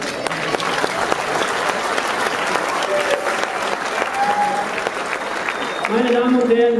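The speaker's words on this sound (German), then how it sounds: "Ich darf Sie ebenfalls nochmal bitten für die zweite Paarung und beide Kämpfer einen Applaus." Crowd applause for two boxers at an amateur boxing event, loud, steady clapping filling the hall, with a few voices rising near the end.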